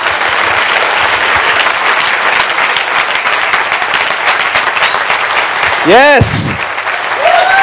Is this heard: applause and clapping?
yes